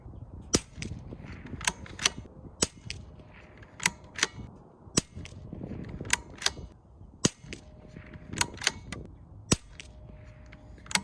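Rifle shots from a Bergara B14R fired at a target, a string of sharp, loud cracks spaced irregularly about a second apart over a low outdoor background, with no talk.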